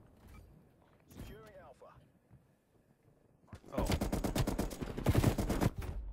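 In Black Ops Cold War, a burst of rapid, heavy hand cannon gunfire rattles off close and loud after a quieter stretch with faint voices and a brief electronic whine.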